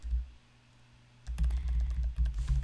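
Fingers type on a computer keyboard, a quiet pause giving way to a run of clustered key clicks, close and alone.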